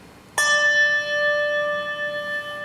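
A small, higher-pitched bell is struck once with a bright attack, then rings on steadily with a clear sustained tone, close by and without talk.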